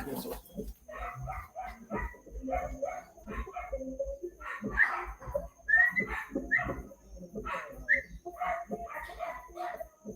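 Several dogs barking and yelping in short, uneven bursts, fairly close and continuous, mixed with whimpers and talk underneath.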